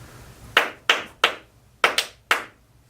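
Five sharp single hand claps, spaced unevenly in a quiet room to mark the start of a podcast recording, each crisp and close with a short decay.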